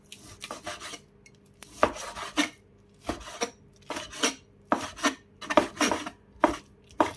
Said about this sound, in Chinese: 切好之后再用刀给它剁一下